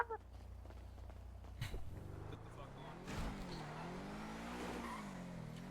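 A car in the GTA video game pulls away, engine revving up with rising pitch and brief tire squeal after a thud of a door, fairly faint throughout.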